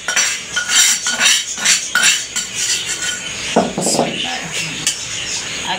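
Metal spoon clinking and scraping against a cooking pot while stirring ginger, garlic, green chillies and onion together, a busy run of close, sharp clatters.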